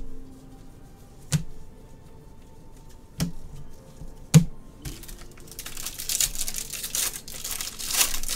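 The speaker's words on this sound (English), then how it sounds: "You're still typing like a champ." Several sharp isolated key clicks on a computer keyboard, then a denser burst of rapid typing near the end, close and fairly quiet.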